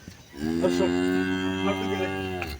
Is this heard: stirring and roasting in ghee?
no